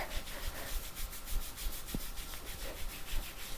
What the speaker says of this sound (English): starting with the inner thighs into the groin, rubbing